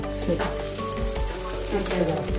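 An egg fries in a pan (karai), a close, continuous crackling sizzle with some faint talk in the background.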